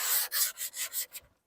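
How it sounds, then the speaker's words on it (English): Sanding of wood to take off splinters, a close, steady scraping rasp in about six rhythmic back-and-forth strokes that shorten and stop. "So I just want to take off any weird extra splinters."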